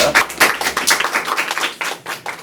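Audience applause at a talk show panel on deepfake regulation, a scattered patter of claps close by that thins out and fades over a couple of seconds with no talking over it.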